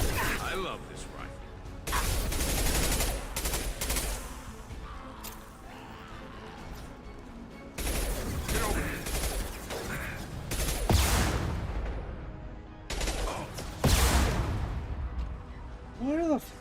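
Rifle fire in the Mass Effect sci-fi shooter game comes in sharp bursts of shots with whooshing impacts, separated by quieter stretches, and a voice talks over parts of the action.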